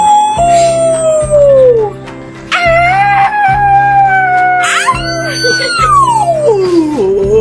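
A person imitates a wolf howl in an animal noise contest, with several long, loud sliding howls that rise and fall, rhythmic voiced pulses underneath, close to the microphone.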